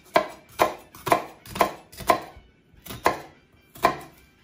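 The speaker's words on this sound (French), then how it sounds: "On coupe les deux échalotes" A knife chops through two shallots on a board in seven crisp, evenly spaced strokes, each a sharp close thud-and-click with brief quiet between, and no voices.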